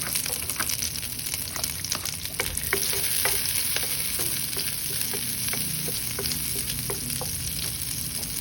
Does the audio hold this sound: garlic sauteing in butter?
yes